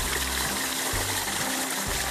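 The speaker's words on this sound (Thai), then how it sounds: "น้ำไหลออกจากท่อส่งนะครับ ตอนนี้ ขนาด 2 นิ้วโอ้โห น้ำไหลแรงมากครับ" Water gushes strongly from a 2-inch outlet pipe fed by a solar-powered pump on farmland, a steady loud rushing flow filling the whole clip with no pauses and no voices.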